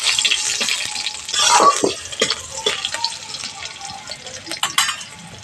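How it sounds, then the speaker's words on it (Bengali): Whole spices, a bay leaf, cumin seeds, a dried red chilli and slit green chillies fry in hot oil, a crackling sizzle broken by repeated spoon taps and scrapes against the pan. "ফোড়ন খুব ভালো করে ভেজে নিয়েছি।"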